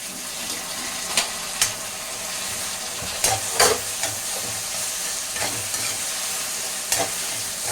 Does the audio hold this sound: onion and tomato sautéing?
yes